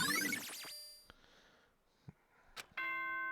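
A chime in the Danganronpa video game signals the trial: ringing bell tones fade out, then a few isolated clicks and blips follow before a sustained tonal electronic sound starts at the end.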